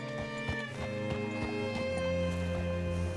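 Horse hooves clip-clopping at a steady walk in the Red Dead Redemption II video game, mixed with a faint whinny and game music, with no speech.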